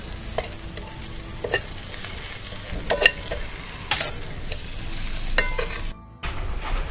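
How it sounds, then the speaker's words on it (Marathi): Spice tempering sizzles steadily in hot oil on a wood-fired stove for a Marathi dried-shrimp curry, with turmeric, coriander powder and chopped coriander, while a spoon stirs and scrapes through it in close, repeated strokes. "छान अशी आपली फोडणी बसलेली आहे"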